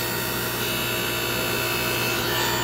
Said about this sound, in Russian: Вот она начинает здесь крутиться.